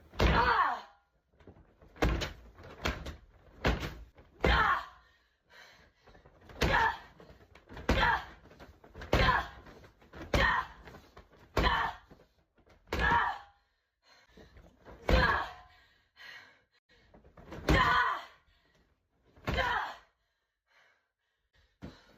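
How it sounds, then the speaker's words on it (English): A pillow beating against a door, a series of repeated muffled thumps at irregular intervals, some in quick pairs, separated by quiet gaps with occasional breaths between blows. "I set up a camera to watch me beat a door with a pillow."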